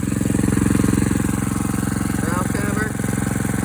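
A warmed-up engine idles steadily up close, a fast even pulsing throb with a faint higher whine briefly rising over it near the end, ahead of an overnight snow.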